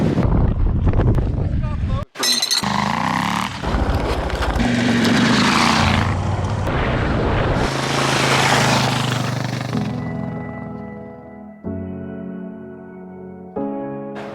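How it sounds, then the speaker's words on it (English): Strong wind buffets the microphone during a motorcycle adventure on an island, a loud, broadband roar that surges and gusts continuously, easing toward the end as a steadier engine-like hum comes through. "Windy!"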